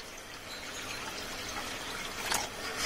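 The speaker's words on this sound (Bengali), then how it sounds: "একটু জল দিয়ে দিলাম" Water is poured into egg curry masala in a pan, making a soft, continuous trickle and splash, fairly faint and alone, with a brief brighter splash near the end.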